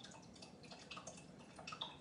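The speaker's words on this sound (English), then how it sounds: "Why is it dripping out like that?" Liquid drips and spatters in a home kitchen, faint scattered splashes over a soft, low background.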